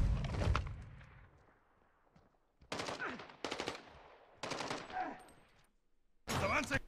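Bursts of automatic gunfire from Call of Duty: Modern Warfare 2's campaign come in several separate volleys, loud and close, with short quiet gaps between them.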